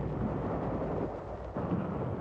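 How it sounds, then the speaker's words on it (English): A captured Japanese knee mortar fires in 1945 wartime combat footage, a muffled, rumbling boom on an old, narrow-band soundtrack that rolls on for a couple of seconds. "Our troops employ a captured Jap knee mortar."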